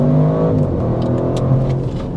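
Audi RS6 Performance engine accelerating, a deep, loud rumble heard from inside the car, with pitch rising, dropping at a shift, then climbing again.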